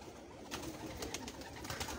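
Pet pigeons kept on a rooftop loft coo softly in the background, low rolling calls repeating through a faint, quiet space with no speech.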